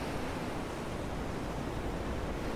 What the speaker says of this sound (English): that sounds like a storm on the water